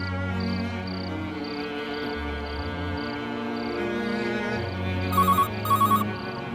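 A telephone rings twice near the end after a call is placed in a Hindi-dubbed action love story film, the short electronic trills following a stretch of music and background hum.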